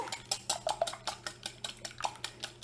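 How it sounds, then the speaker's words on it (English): Eggs whisked in a bowl for scrambling, a quick steady series of light clinking taps from the whisk against the bowl, fairly faint and close, with no talking. "get those whisked up while our pan is heating"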